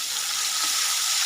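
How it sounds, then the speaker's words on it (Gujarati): Cumin, green chili and asafoetida sizzle in hot oil with a close, continuous hiss and crackle throughout. "સરસ શેકાઈ ગયો છે એટલે હવે આપણે તેલ મૂક્યું છે। આપણે એમાં જીરું નાખીશું, લીલું મરચું નાખીશું, આપણે એમાં હિંગ નાખીશું।"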